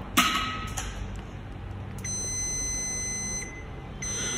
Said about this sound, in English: And then the continuity test, the beep sound is good.